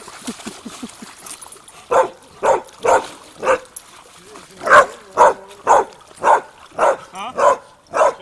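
A small dog gives a steady string of about a dozen sharp yaps at an even pace, preceded by soft whimpering, close to the microphone.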